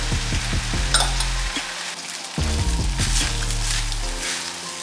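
Garlic fried rice tossed in a hot wok with soy, oyster and fish sauce, sugar and white pepper: loud sizzling with bursts of rattling, scraping stir strokes, no talking.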